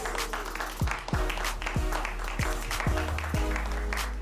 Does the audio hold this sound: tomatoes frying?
no